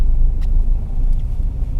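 Steady low road rumble of passing car traffic, fairly loud and continuous with faint higher swishes, no voices.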